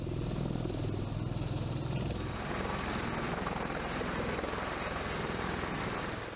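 A V-22 Osprey tiltrotor aircraft aboard a US Navy aircraft carrier, a steady loud rotor and turbine roar with a rising high whine partway through, close and continuous.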